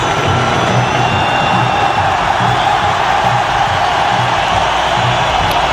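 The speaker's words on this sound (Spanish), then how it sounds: "Esta ovación es para James Rodríguez." Loud stadium crowd roaring in ovation for footballer James Rodríguez at a São Paulo match, a continuous dense wall of cheering and whoops throughout.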